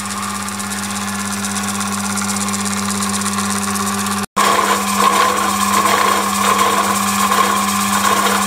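A metal lathe cutting the teeth of a modular gear drones steadily and loudly with a constant hum and mechanical rattle, broken by one brief cut-out partway through.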